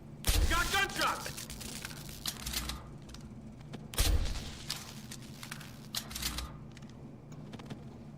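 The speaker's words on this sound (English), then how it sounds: "You got gunshots!" Gunfire in the video game Deus Ex: Human Revolution, two loud, sharp bursts about four seconds apart with softer clatter between them, while game characters talk.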